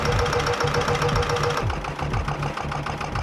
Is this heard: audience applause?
no